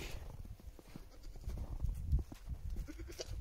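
A goat bleats faintly amid quiet farmyard rustling in winter, the calls soft and irregular.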